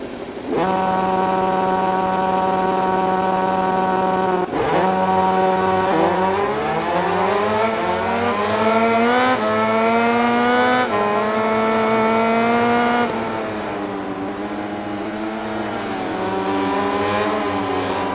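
Racing motorcycles from MotoGP 20 on Xbox One screaming at high revs on an illuminated racetrack, engines climbing and shifting pitch in a loud, continuous pack, with no talk.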